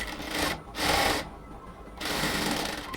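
A sewing machine runs a double line of stitching along the shoulder seam of a band-collar garment in three close, loud bursts separated by short pauses, with no speech.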